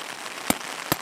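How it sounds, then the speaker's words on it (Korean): Rain falls steadily on an inflatable air tent, a dense patter on the fabric with two sharper, louder drops or drips standing out near the middle and end. "지금 마침 비가 내리니까"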